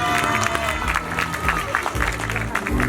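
An outdoor crowd at a walking-festival opening ceremony claps and cheers in a brisk patter of applause, while a voice over a loudspeaker talks on top of it.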